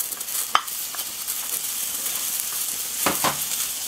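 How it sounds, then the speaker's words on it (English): Butter and garlic sizzling in a frying pan, a bright steady hiss close up with a few scrapes and clicks of a utensil, no talking. "now into the pan we put the butter as well as the garlic"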